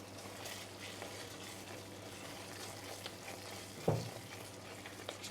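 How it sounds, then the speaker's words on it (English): Cannellini balls are stirred into a mushroom sauce with soy sauce in a pan, a soft steady sizzle running beneath occasional scrapes and one louder clack of the utensil. "Just trying to mix the soy sauce that I added in, combine everything."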